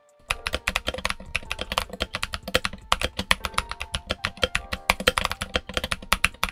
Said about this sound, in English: I thought maybe some U4TXs will really bring a new level of sound to this keyboard.